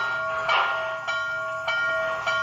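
Bell of an MTH HO scale GS-4 #4449 4-8-4 model steam locomotive with Proto Sound 3.0 rings in even, repeated strokes about every half second, clear and close with a sustained metallic ring.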